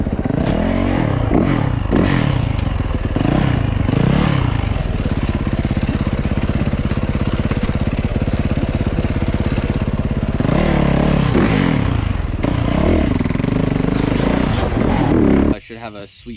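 Dirt bikes race at Mideast Racing Pea Ridge, a motocross engine revving hard and continuously up and down through gear changes, loud and close with clattering and wind noise, then cutting off abruptly near the end.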